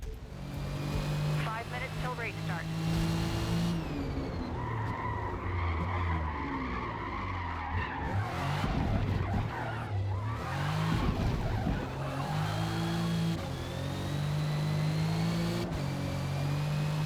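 Cadillac Blackwing on street tires in a racing video game, engine droning steadily while tires skid and squeal through corners, with someone talking over it throughout.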